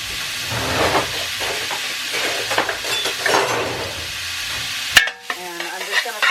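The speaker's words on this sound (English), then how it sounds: "And I'm just gonna saute this for a few minutes." Onion sautés in a pan with a steady sizzle and spoon-stirring scrapes, then a sharp clang near the end before a quieter, lingering hiss.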